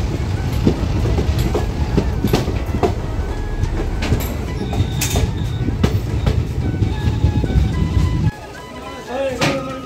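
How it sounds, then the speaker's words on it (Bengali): A passenger train pulls out of Madhupur station in the late afternoon. Loud, close wheel rumble with clattering rail clicks fills most of the clip, then drops away sharply near the end, and voices are heard over it. "ট্রেন ছাড়লো মধুপুর স্টেশন থেকে"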